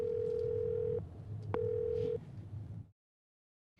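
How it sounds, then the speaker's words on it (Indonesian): A telephone ringback tone sounds on an unanswered call, two steady electronic beeps separated by a short pause, faint over a low hum before the line goes quiet. "Berdering tapi nggak diangkat"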